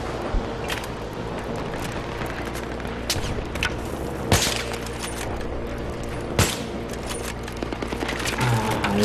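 Gunfire in the Battlefield 3 campaign night mission: dense, continuous automatic fire with sharp louder shots and booms at about 4.4 and 6.4 seconds, steady and close throughout.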